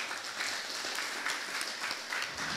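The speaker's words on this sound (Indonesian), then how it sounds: "Tepuk tangan dulu untuk Tuhan Yesus." An audience at a church seminar claps together, a dense steady patter of many hands with a few sharper accents, fairly close and continuous throughout.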